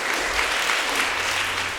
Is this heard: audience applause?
yes